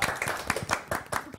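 A short burst of brisk clapping, several hands applauding together at close range, a few seconds of lively claps with no talking.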